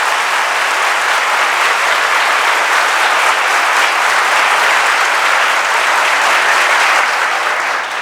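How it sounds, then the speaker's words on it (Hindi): An audience claps at a coaching-institute talk, a dense, even wash of many hands that holds steady and loud throughout with no pauses or voices rising above it. "उसके लिए ताली बजाएं"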